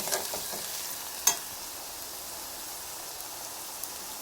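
Onions frying in a pan with turmeric being stirred in, a quiet continuous sizzle with one sharp utensil tap and faint scraping, no talking.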